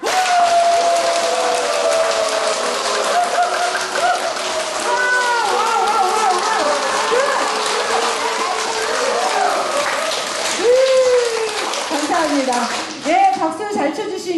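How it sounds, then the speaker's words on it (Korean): Audience members at an invited lecture clap together on a cue, a sustained wash of applause with excited shouts and exclamations riding over it and a voice rising near the end. "박수 한번 쳐볼게요"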